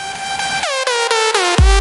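A short excerpt of the original meme song, a bright buzzy synth lead playing a few descending stepped notes, loud and close, ending on a deep bass hit.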